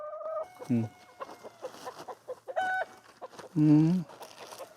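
Chickens on a mountain farm give several loud, close clucks and squawks, including a strong burst near the end, over quieter background sounds.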